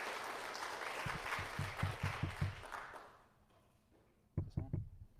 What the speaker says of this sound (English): Yeah, you can clap again